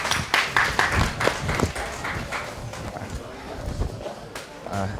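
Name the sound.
audience applause at workshop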